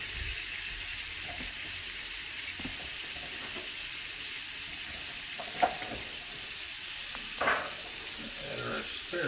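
Asparagus fries in a pan alongside blackened shrimp, giving a steady close sizzle throughout with a couple of brief clinks from stirring.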